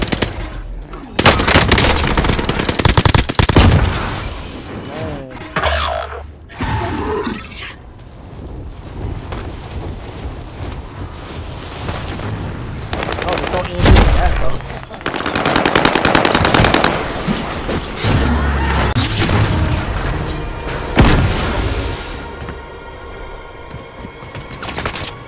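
Call of Duty: Warzone gunfight with rapid bursts of automatic gunfire and loud blasts including a grenade explosion, dense and continuous, with brief lulls between volleys.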